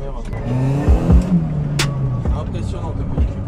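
A Rover 114 GTI 16-valve with a 1.4-litre engine revs hard and accelerates up close, its pitch climbing through gear changes over road and wind noise.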